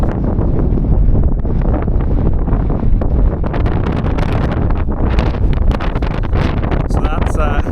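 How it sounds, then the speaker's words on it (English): Strong wind buffets the microphone on a hilltop during a gravel bike ride in Ireland, a loud, constant roaring rumble with gusty surges throughout. "Don't know if you can hear me, it's very windy."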